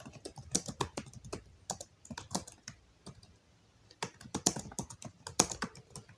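Keys clatter on a computer keyboard while text is entered into a Microsoft Excel sheet with caps lock on, in quick irregular bursts of close, crisp clicks separated by short pauses.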